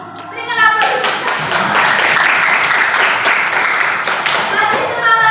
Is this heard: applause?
yes